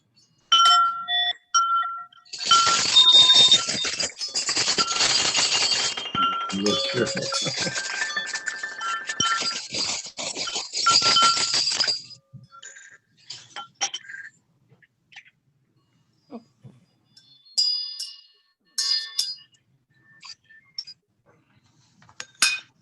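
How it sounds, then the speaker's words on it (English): Hand bells rung by members of a congregation during an online worship service, a dense, bright jangle of many overlapping bells for about ten seconds, then scattered single rings and clinks trailing off. "grab your bell, and let's make a joyful sound"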